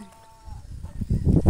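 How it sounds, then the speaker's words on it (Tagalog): Goats on a farm bleat in a rising series of short, insistent calls that grow louder toward the end, with no talking. "ang daming kambing, oh"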